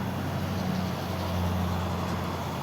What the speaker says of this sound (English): Sorry, loud truck, again